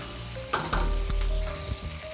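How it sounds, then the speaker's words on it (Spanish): Rocoto chili sauce ingredients, including peanuts, sizzle and fry in a hot pan on the stove, a steady close crackle with a few stirring scrapes and no voices. "Y todo esto lo voy a saltear. lo vamos a saltear de 3 a 4 minutos."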